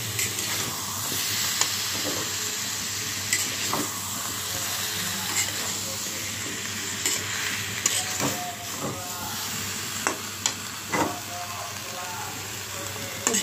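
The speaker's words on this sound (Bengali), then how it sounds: "আমি মাছটা আলুটা মশলার সাথে একটু ভেজে নেব।" Pieces of fish and small potatoes fry in hot oil with spice paste, giving a steady close sizzle with occasional stirring scrapes and brief louder spits over the continuous hiss.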